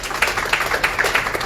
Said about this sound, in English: I welcome you to join me in a round of applause for their hard and tireless work